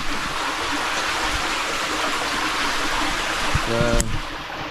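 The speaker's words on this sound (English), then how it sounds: "We got about 5 inches of constant water flowing through there." Shallow stream, about five inches deep, runs steadily over Class B riprap in its bed, a constant close rushing wash, with a brief voice near the end.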